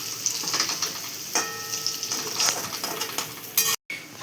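Colocasia leaf rolls (alu vadi) shallow-fry in a little oil, a soft close sizzle broken by scraping stirs and a few light metallic clinks of utensil against pan, with a brief dropout near the end.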